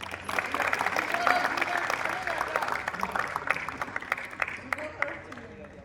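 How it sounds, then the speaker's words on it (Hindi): An audience at a college poetry event applauds a poem recitation. Dense clapping starts strong, then thins and fades over about six seconds, leaving a few scattered claps. "तालियों की गड़गड़ाहट बता रही है कि कविता सभी को बहुत पसंद आई"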